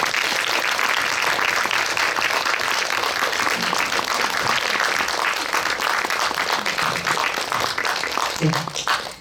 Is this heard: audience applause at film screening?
yes